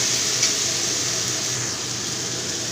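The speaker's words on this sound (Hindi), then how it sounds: "चलिए इसको थोड़ा सा फ्राई कर लेते हैं।" Spiced jackfruit sabzi sizzling steadily as it fries in a pan with onion and tomato, a continuous loud hissing crackle close by that stays even throughout, with no talking.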